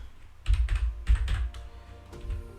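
Java code typed on a computer keyboard, a short cluster of heavy, thumpy keystrokes followed by a few softer presses, close and moderately loud, with no talk.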